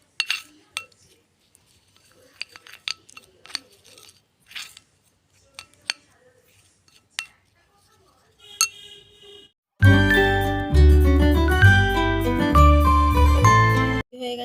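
Faint, scattered clinks of a spoon stirring orange peel paste with milk and honey in a bowl, sparse and light over near silence, until loud music takes over for the final few seconds.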